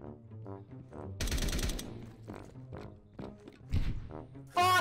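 Flashbangs and gunfire in a first-person shooter video game: a dense burst of gunfire and a bright bang, followed by scattered thuds and a final loud crack, over game music and effects.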